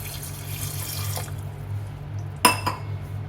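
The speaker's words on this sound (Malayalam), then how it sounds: "കുറച്ച് വെള്ളം ഒഴിച്ച് കൊടുക്കുക." Water runs from a tap into a pressure cooker of salted chickpeas, a steady faint trickle cut by a sharp clink of metal or glass near the end.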